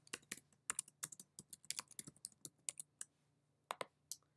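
Typing on a computer keyboard while entering text in Silhouette Studio software: a quick, irregular run of crisp key clicks with short pauses, close and fairly quiet, no talking.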